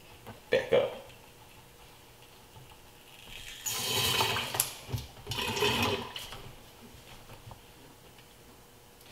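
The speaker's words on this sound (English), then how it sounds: "So let me finish pumping this" A hand pump pushing manual transmission fluid into a BMW E90, heard as two bursts of wet, rapid pumping and gurgling a few seconds apart, preceded by a couple of sharp clicks, fairly close and quiet.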